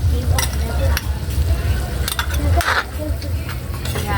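Fishballs frying in hot oil in a pan, with a steady close sizzle and repeated scraping stirs of a utensil against the metal, plus a few clinks.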